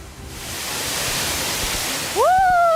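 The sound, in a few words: waterfall at the top level of Leunsalama falls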